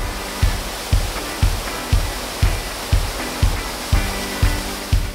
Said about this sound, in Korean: 시원한 물줄기를 뽑아내는 이 인공폭포가 정말 한국의 그림 같지 않나요